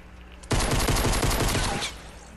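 Blue drum gun firing in a video game, a loud close burst of rapid automatic shots lasting over a second, a dense rattling stream with a quieter tail as it stops.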